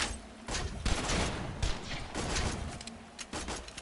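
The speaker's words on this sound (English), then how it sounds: "The bullets went all around him." Gunfire in the Borderlands Hammerlock DLC video game comes as dense, rapid bursts of shots and booming impacts that run almost continuously and loudly, with short gaps between volleys.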